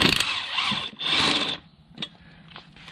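A ratcheting wrench loosening an axle nut on a Can-Am Defender clicks rapidly in two bursts, then stops, followed by faint clanks of metal parts close by.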